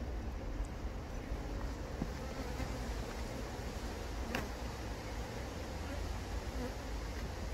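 Honey bees hum at an open hive in Devon during brood and pollen inspection, a steady dense buzz continuing throughout with faint handling noises and no clear talk.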